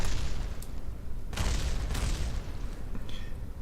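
A crashed rocket explodes in Kerbal Space Program, a sustained rumbling roar with a sharp burst midway and debris crackle, loud and continuous with no talk.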